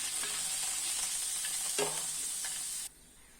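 Malabar spinach and vegetables drop into hot oil spiced with bay leaves and green chillies, a loud steady sizzle with a sharp burst as they land, then the frying cuts off abruptly near the end.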